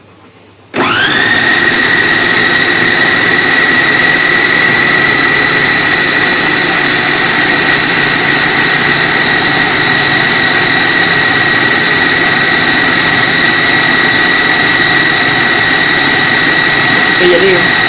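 Electric kitchen mixer running at low speed while making chocolate speculoos mousse, switching on abruptly after a moment of quiet and then holding a steady, loud, high-pitched whine with a faint rattle, close and continuous.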